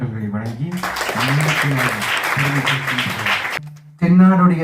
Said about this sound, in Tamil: நல்ல கைத்தட்டல்களை வழங்கி